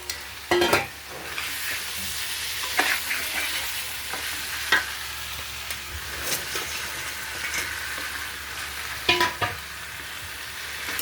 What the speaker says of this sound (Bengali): মাছটাকে দিয়ে দেবো